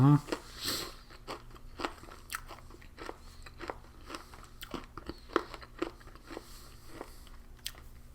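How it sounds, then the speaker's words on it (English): Polish S-R-9 field ration pasta bolognese being chewed close up, with repeated crunchy bites and wet mastication in an irregular rhythm over a quiet room, alone without talk. "Excuse me, chewing."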